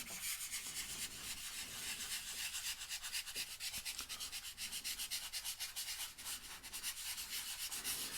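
A small tool scrubs oil pastel into paper in quick, steady back-and-forth strokes. The rubbing and scratching is close but soft, keeps an even rhythm, and plays on its own without talk.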